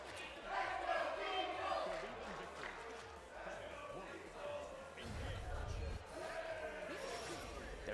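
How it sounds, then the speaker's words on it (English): Two rival esports tournament crowds at a Granblue Fantasy Versus: Rising top-8 event shout and cheer loudly over each other, a dense sustained roar with a commentator talking over it. "Both of the crowds are just shouting so loud that you can't tell who they're cheering for"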